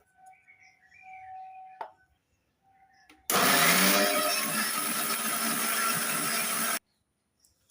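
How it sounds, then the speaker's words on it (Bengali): A loud electric mixer grinder whirs steadily for several seconds as it pulverizes dried onion into powder, starting abruptly and cutting off sharply, with faint background sounds before it. "এবার মিক্সিতে ডাস্ট করে দেবো"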